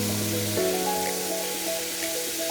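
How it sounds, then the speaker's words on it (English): Beef spread out and searing in a hot pan for a Japanese beef rice bowl, a loud, steady broadband sizzle running throughout, with a low hum and faint tonal kitchen noise underneath. "make sure you spread that beef out as much as you can in the pan"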